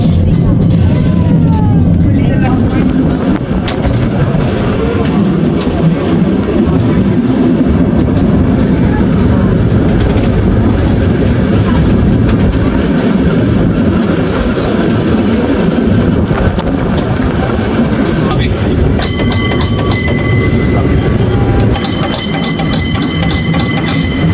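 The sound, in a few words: train moving along the rails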